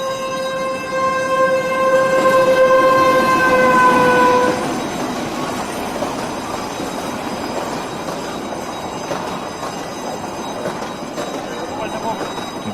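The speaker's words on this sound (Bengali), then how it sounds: "ট্রেন এসে গেছে।" A train pulling into a station sounds a loud sustained horn for several seconds, then the rumble and rolling clatter of the cars continue, with voices present.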